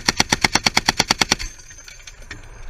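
A .50 caliber machine gun fires a sustained burst of about ten loud, rapid, evenly spaced shots during a live-fire drill, then stops, leaving a fainter ringing, echoing tail.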